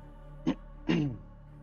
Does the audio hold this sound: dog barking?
no